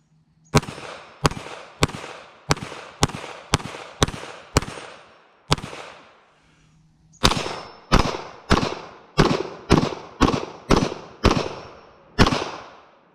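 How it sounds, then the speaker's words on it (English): A Kel-Tec PMR-30 pistol fires at steel targets outdoors, sharp loud cracks in two strings of about eight shots each at a quick steady pace, every shot trailing off in echo, with no speech. "Let's shoot some of the steel with it."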